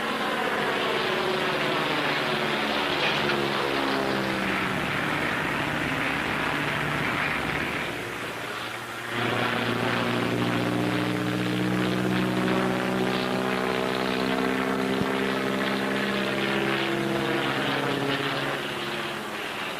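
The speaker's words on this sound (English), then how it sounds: "That's what you call a Chinese takeoff. One wing low." Propeller airplane from 1939 taking off with one wing low, its engine drone loud and sustained throughout, pitch shifting as it passes, a brief dip near the middle, no talking.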